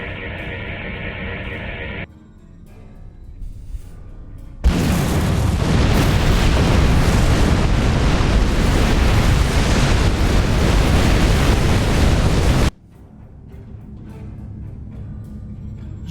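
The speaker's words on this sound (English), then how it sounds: "Detonate the charges." Detonated charges destroying a factory in the video game Star Trek Online, a sudden massive blast that swells into a long, roaring rumble lasting about eight seconds before cutting off, loud and close, framed by quieter game ambience.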